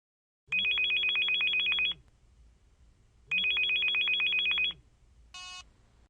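A telephone bell rings in two long, loud bursts separated by a short pause, followed by a brief softer electronic tone, with no talking.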